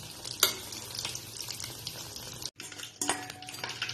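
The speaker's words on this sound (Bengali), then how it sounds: "এই যে আর একটু ভেজে নিচ্ছি।" Chicken pakoras fry in oil over low to medium heat with a steady, soft sizzle, broken by occasional utensil scrapes and light clinks as they are stirred.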